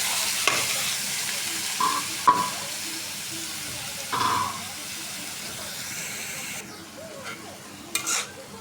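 Potatoes frying in a pan for aloo bhaji give off a steady, close sizzling hiss, broken by a few louder scraping stirs of a utensil against the pan, with no talking.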